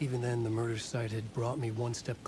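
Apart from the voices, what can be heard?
No everyday noise stands out behind the speech.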